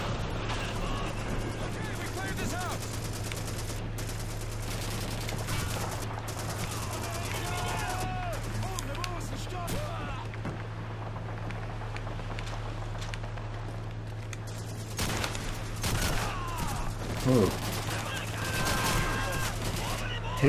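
Video game gunfire from Call of Duty 2, a busy battlefield with bursts of rifle and machine-gun fire under steady engine-like rumble, with more shots crowding in near the end; a voice talks now and then.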